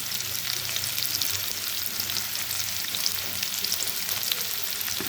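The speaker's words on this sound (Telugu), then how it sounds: "మిర్చిలు గోలిన తర్వాత ఉల్లిపాయలు వేసుకోవాలండి" Onions sizzle steadily in hot oil with fried chillies for a curry, a continuous bright crackle that stays even and close throughout, with faint stirring underneath.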